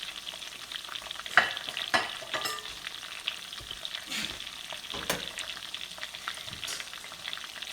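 Keto fried chicken in an oat-fiber coating sizzles steadily in a pan while it browns, with a few scrapes and pops as the pieces are turned. No one talks.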